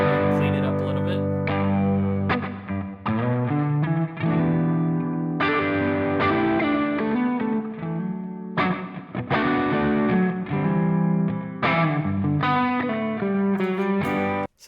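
Electric guitar played through a Chase Bliss Brothers AM overdrive pedal on channel 1, a mildly driven tone with strummed chords and picked notes in loud phrases separated by short pauses.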